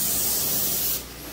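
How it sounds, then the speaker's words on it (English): Pressure-washer jets spraying surfaces during a move-out cleaning, a loud, close, continuous hissing rush that drops in level and changes tone partway through. "My jets are fine. They're spraying just right."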